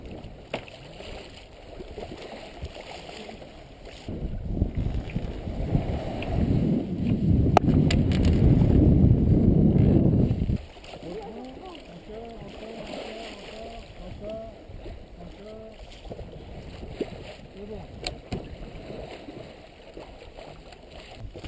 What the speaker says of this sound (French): Le lendemain, navigation agréable.